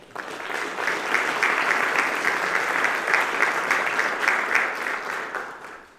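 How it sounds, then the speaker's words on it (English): Sustained audience applause at a high school National Honor Society induction ceremony, a steady wash of many hands clapping together for the full stretch at even loudness, fading slightly toward the end. "Would you please join me in a round of applause for all the aforementioned people?"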